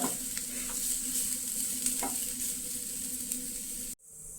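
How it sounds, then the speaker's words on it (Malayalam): Grated coconut sizzles and crackles in a hot pan on low flame, roasting toward brown, while a spoon stirs and scrapes through it, then the sound cuts off abruptly. "തേങ്ങ നന്നായിട്ടിത് ഇളക്കി കൊടുത്ത് ബ്രൗൺ നിറമാവുന്നിടം വരെ നമുക്ക് വറുത്തെടുക്കാം"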